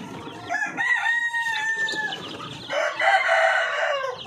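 Chickens and ducks calling close by: a long crowing call followed by a burst of loud, harsh squawking and clucking, with no talking.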